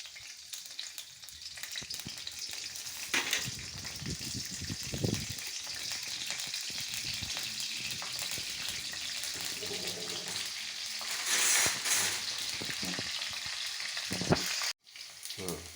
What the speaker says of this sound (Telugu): ఇదంతా బాగా పచ్చివాసన జరిగేంత వరకు వేయించుకోవాలి